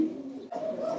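Fancy pigeons in a breeder's collection, with one soft low coo followed by a second slightly higher coo in a single brief close call.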